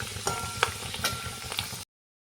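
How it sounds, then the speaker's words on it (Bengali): Green pea kachoris deep fry in hot oil, with a soft, continuous sizzle broken by brief bubbling pops and stirring scrapes before the sound cuts off abruptly. "আমি সবগুলো ভেজে নিয়ে নিচ্ছি।"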